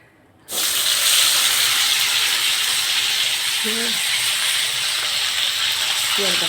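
Garlic, coconut, coriander and ginger hit a hot kadhai with a sudden loud hiss that settles into a steady, close sizzle for several seconds.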